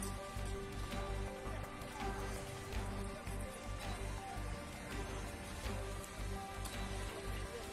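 Steady rain falling on surfaces, a dense continuous patter with scattered sharper drops, even and unbroken throughout.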